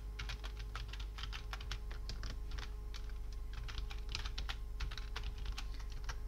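Email and password being typed on a computer keyboard: a continuous run of quick, close, crisp keystrokes with an irregular rhythm and no talking.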